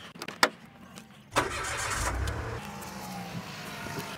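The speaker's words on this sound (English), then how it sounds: "it's a noisy engine" Engine of a 2021 Mitsubishi Mirage G4 starting after a few clicks, then running with a loud, coarse hum and settling into a steady idle close by, with no talk.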